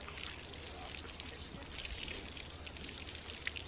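A garden hose sprays water onto ducks in a steady, hissing, patter-like shower that runs continuously at a fairly close distance, with no clear speech over it.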